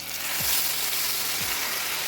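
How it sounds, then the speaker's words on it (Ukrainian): Steady sizzling of a pork chop frying in a hot pan, a continuous crackling hiss with a couple of brief low thuds, no voices. "Смажимо цю відбивну так само до гарної золотистої скоринки"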